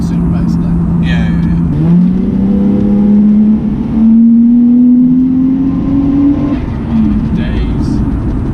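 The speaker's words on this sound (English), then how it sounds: "Absolutely love the sound of this car." Engine of a 1991 Toyota Soarer, a roughly 300 bhp car, holding a steady note that climbs slowly as it revs, loud and close, with people talking over it.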